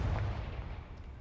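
A Confringo blasting spell explodes in Hogwarts Legacy, a single loud booming burst up front that rolls off into a low rumbling decay, with no voices over it.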